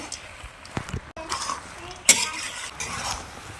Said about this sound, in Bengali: কাজু, ভালোভাবে নেড়ে নেব